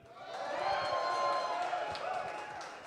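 A big crowd cheers at a Clubhouse Live show with Packers defensive lineman Kenny Clark as guest, a broad, swelling roar that carries at a moderate distance and fades a little toward the end.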